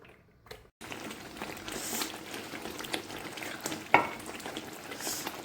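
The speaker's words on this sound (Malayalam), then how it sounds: "നല്ല രീതിക്ക് പൊട്ടിത്തെറിക്കുന്നുണ്ട്" A thick herbal lehyam paste cooks in ghee, sizzling and bubbling steadily with scattered spluttering pops and one sharp, louder crackle partway through.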